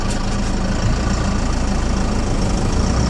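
A 4BT Cummins diesel engine in a truck idling after an idle adjustment, a steady, loud, close-up rumble with an even rapid knock throughout and no speech.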